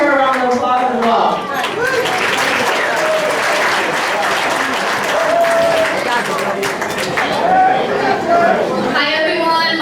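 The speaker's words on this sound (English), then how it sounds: "So let's definitely give her a round of applause as well." Audience at a local political club's general meeting giving a sustained round of applause, dense steady clapping with chatter and voices underneath.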